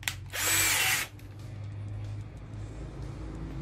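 A Tramontina cordless drill/screwdriver drives into rough, hard wood, starting with a short loud whirring burst and then a steady lower motor hum, with no talking.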